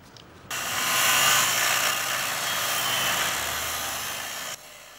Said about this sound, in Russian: в ход пошла муниципальная болгарка